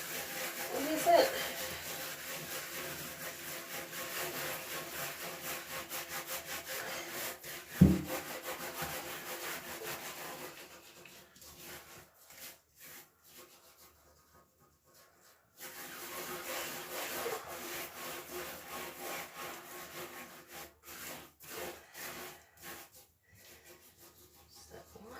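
Rubbing and scrubbing of a finished cross-stitch piece during hand washing, a steady close scratchy friction that runs in bursts, pauses for several seconds, then resumes.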